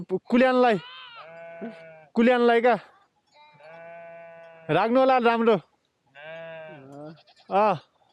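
Loud, close bleating calls of sheep and goats come in several separate bursts, with someone speaking between them.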